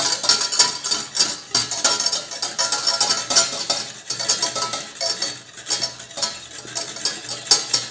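Cubes of butter being whisked into a beurre blanc sauce in a pan, rapid rhythmic scraping and clinking of a whisk against metal, close and fairly loud, with a faint simmer underneath.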